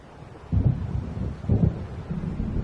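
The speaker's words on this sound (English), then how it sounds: "It seems there's a storm coming." Deep rolling thunder from an approaching storm in the video game Alan Wake, two low rumbling swells over a continuous dull roar, moderately loud with no voices.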